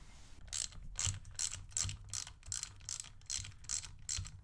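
Ratchet wrench clicking in rapid repeated bursts while loosening the cover bolts on a KTM Duke motorcycle engine during an oil change, close and fairly quiet, with no talk.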